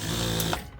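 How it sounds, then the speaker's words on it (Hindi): A sewing machine runs steadily while stitching a farshi salwar, a continuous close whirring motor hum with the needle's rapid rhythm, slowing toward the end of the short burst. "यहाँ से हमारी सिलाई शुरू हो जाएगी।"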